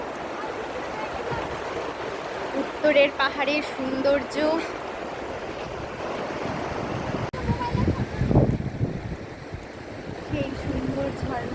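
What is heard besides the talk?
flowing waterfall water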